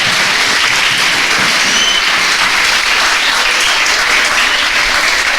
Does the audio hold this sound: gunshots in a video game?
no